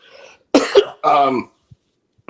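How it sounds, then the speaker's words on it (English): Two or three harsh coughs in quick succession, close and fairly loud, followed by a brief throat sound and quiet. "pardon the coughing. I can't help it. It's involuntary at this point."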